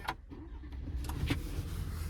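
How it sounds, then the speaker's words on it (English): A 2025 Chevrolet Silverado 1500 LT engine starts in a brief, close burst of low rumbling and cranking noise with scattered higher clatter, lasting only about two seconds. "so we'll start it up."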